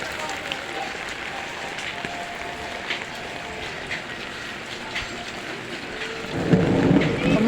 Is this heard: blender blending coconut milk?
no